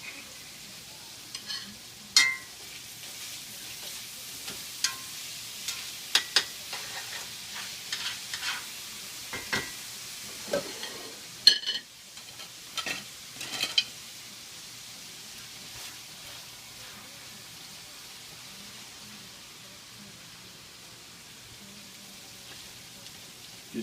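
Low-carb cabbage slaw browning in a pan, a soft steady sizzle with scattered stirring scrapes and clinks from close by.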